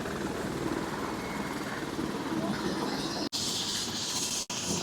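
A loud, continuous helicopter engine and rotor roar fills the clip, close and steady, briefly cut by a few abrupt breaks, heard in the UAE.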